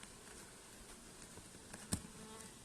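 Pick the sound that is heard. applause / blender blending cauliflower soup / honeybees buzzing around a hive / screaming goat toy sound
honeybees buzzing around a hive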